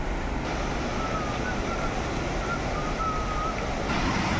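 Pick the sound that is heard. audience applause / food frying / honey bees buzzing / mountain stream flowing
mountain stream flowing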